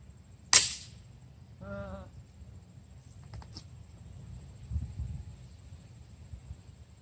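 A BB gun fires at a gutted boombox, giving one sharp, loud crack near the start, then a short buzzing rattle and a few faint ticks over a low background rumble.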